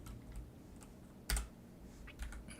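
Sparse key presses on a computer keyboard while coding in Emacs, a few soft clicks with one sharper, louder keystroke, heard close and alone in a quiet room.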